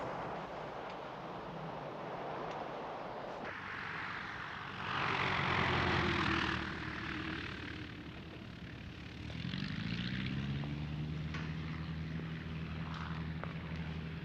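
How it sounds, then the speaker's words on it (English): Propeller engine of a biplane droning at a distance, swelling louder in two passes as the aircraft comes nearer, with a steady low hum between, no talk over it. "Hey, Ace, is that you standing up on top of this biplane"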